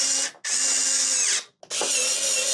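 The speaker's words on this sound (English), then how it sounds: "We're gonna install all the screws here and here and here." A power drill drives screws into a Flashforge AD5X 3D printer enclosure kit, with two loud, close whirring bursts split by a short silent pause and no talking.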